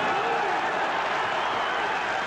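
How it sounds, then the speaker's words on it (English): A boxing arena crowd roars and cheers in a sustained, dense wash of noise as Ken Norton and Scott LeDoux trade hard punches, with a commentator's voice faintly mixed in. "again the crowd overreacting"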